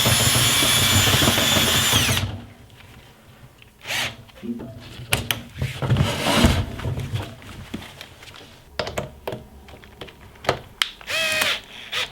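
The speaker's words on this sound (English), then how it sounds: "So we'll just push the drill in, give it a turn, wait for it to lock" A power drill whirs in short bursts turning chimney sweep rods for a wood burning stove, with clicks and rattling of rods between runs, fairly close.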